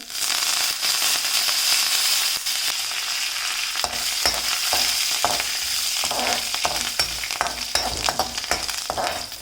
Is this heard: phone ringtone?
no